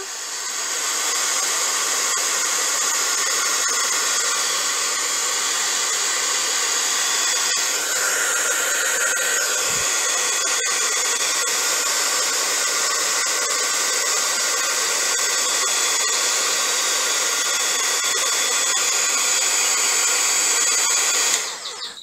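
A hair dryer runs on high, drying a freshly applied patina product on a surface: a loud, steady whir that holds for about twenty seconds, with a brief pitch shift midway, and no talking.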